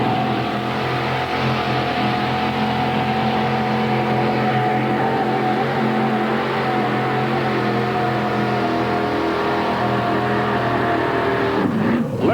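A 1800-class mini modified pulling tractor at an NTPA event in Scribner, Nebraska makes a loud, sustained engine roar through a straight pulling run, holding a steady droning pitch throughout.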